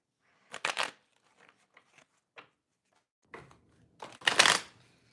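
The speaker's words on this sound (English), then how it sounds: "Now we're going to pull a couple of past lives oracle cards." Past lives oracle cards being shuffled, a couple of short riffling bursts separated by soft taps and small handling clicks, close and clear in an otherwise quiet room.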